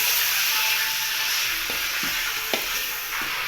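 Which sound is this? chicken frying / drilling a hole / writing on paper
chicken frying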